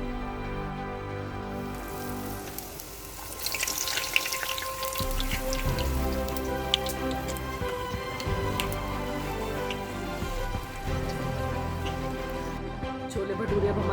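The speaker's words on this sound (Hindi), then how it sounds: "अब हम भटूरे को तेल में डालेंगे।" Bhature hit hot oil in a kadhai and deep-fry with a dense, crackling sizzle that swells after a quieter start and holds steady, close and loud over a low background hum.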